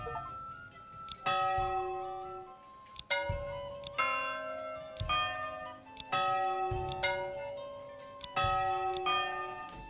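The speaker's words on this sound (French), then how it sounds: "Vous pouvez modifier le son de la cloche." Tolling bell chimes from the medieval city-building game Manor Lords, a series of resonant metallic strikes with long ringing decays, repeating roughly every second or two, clear and alone without talk.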